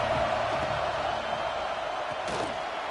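A large football stadium crowd makes a continuous, moderately loud roar with no clear peaks.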